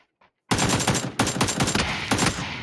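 Loud burst of video game gunfire erupts after a brief quiet moment, a series of close, heavy rapid shots with short gaps between volleys.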